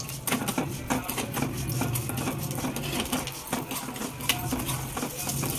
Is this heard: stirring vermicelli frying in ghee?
yes